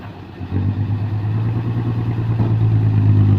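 Old Nissan truck engine pulling hard, its loud rough note rising from a lower idle into a steady, pulsing, clattery drone close by, with no voices over it.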